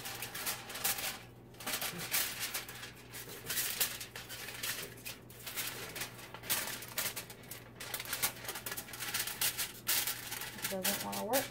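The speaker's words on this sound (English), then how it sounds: "You take your sheet of aluminum foil and I fold it in half." A sheet of aluminum foil being folded in half and handled produces irregular crinkling and rustling in bursts, close by, with a faint steady hum underneath.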